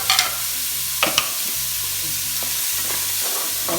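Chopped onions and half a cabbage fry in a pan for a cabbage poriyal, a steady close sizzle with a few spatula scrapes and clatters against a low, intermittent background hum.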